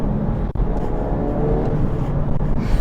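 A 2019 Renault Megane RS Trophy accelerates hard, its engine note droning loud and steady from inside the car with a brief gear-change dip early on.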